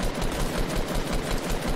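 Rapid gunfire in the battle game Fortnite, a dense, continuous stream of sharp shots running unbroken for nearly two seconds with no voices over it.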